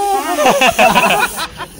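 A snake gives off a sharp warning hiss, likened to a pressure-cooker whistle, in short forceful bursts close by, mixed with people's voices before it cuts off.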